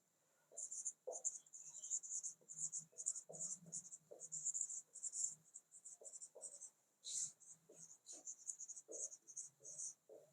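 Writing on a board or paper during a class lecture, heard as irregular, faint, close strokes and taps in short bursts with brief gaps, against a steady high hiss.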